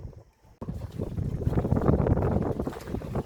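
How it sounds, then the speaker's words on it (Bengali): Strong gusty wind buffets the microphone on a boat on a river in the Sundarbans, a loud rumbling roar that surges in after a brief quiet moment and continues unbroken. "আজকে কিন্তু ভালোই ঝোড়ো হাওয়া রয়েছে নদীর ভিতর"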